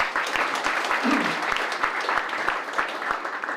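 An audience at a Korean community ceremony for a newly built district office applauds together, a dense sustained wash of clapping that stays loud and even throughout, with a voice briefly heard beneath it.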